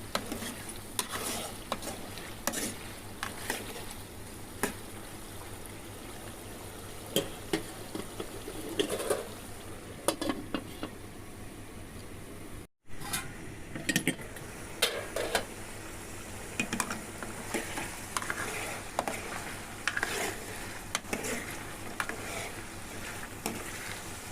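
Chicken curry is stirred with salt in a pan, and a utensil scrapes and clacks against the metal in repeated irregular strokes. A low sizzle sits underneath, and a short break comes midway through.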